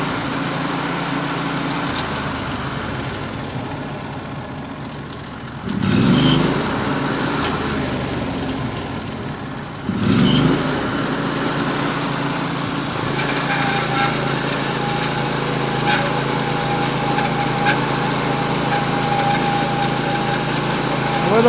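Norwood HD36V2 sawmill slowly cutting a 3-inch slab off a wide poplar log at maximum width, a steady engine drone with blade whine and two brief louder thumps partway through, continuous throughout.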